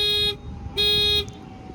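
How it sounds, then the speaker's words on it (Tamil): A Hyundai Venue horn sounds from the remote key in two loud, close honks, the second slightly longer, separated by a short pause and followed by quiet. "ஸோ உங்களுக்கு வந்து ஹார்ன் வந்து ஒர்க் ஆகும்."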